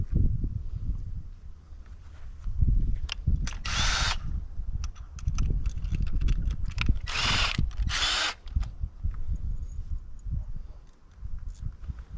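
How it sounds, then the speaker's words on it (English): A power drill drives a 3-inch drywall screw through Schedule 40 PVC pipe on a deer tube feeder, whirring loudly in several bursts with clicks and handling knocks in between, up close and without talk. "let me get a screw in that one"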